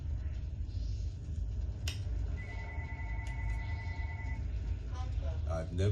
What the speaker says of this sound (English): Uh-oh, the phone.